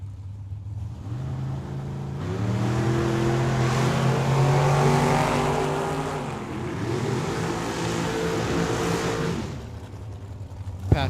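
Camaro drag car at Tucson Dragway, a rough low idle before engines rev with rising, stepped harmonics through a hard launch and run, loud and near, then fading out.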